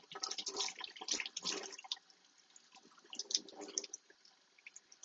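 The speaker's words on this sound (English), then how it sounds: "I'm just going to shake the water out" A rinsed leek is shaken to fling off water, giving close, fast bursts of splashing and dripping in two clusters with a quiet gap between.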